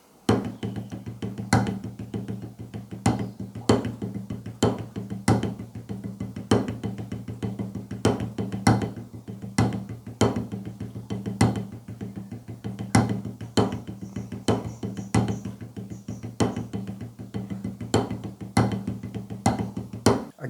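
A drummer plays a two-bar phrase rebound stroke exercise: sharp strokes repeat in an even pattern, with accented hits recurring at regular intervals over a steady low hum, alone and close.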